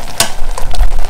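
Jjapaguri noodles stirred in a hot pan sizzle and fry loudly up close, with a sharp scrape of the utensil near the start and a continuous crackling hiss throughout.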